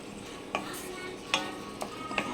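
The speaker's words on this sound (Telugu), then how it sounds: "పేస్ట్ వేస్తాను, కొంచెం వేయించుకుందాం, దోరగా వేయించుకుందాం." Onion paste for a stuffed brinjal curry frying in oil in a pan, a steady close sizzle and hiss, broken by a few light scrapes and clinks as it is stirred.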